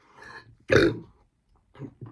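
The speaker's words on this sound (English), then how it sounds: "I just burped actually" A single deep, throaty burp from a man sounds up close, with faint breathy vocal noises just before and after it.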